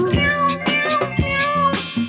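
A cat meows four times in quick succession, each call clear and drawn out, with short gaps between them.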